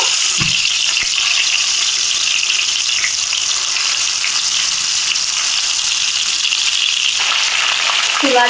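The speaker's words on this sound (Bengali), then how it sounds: "জালটা একেবারে লো রেখে প্রায় পাঁচ ছয় মিনিটের মতো আমটা এভাবে জাল করে নিব" Green mango pieces fry on low heat in oil tempered with panch phoron for a mango pickle, a steady close hiss of sizzling that runs evenly throughout, with no talking.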